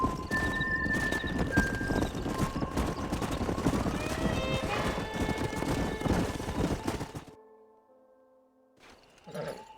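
In the Red Dead Redemption video game, a stallion gallops with steady, dense hoofbeats and a neigh, loud and close, then the hooves drop off abruptly, leaving faint ambience and a short final burst of noise.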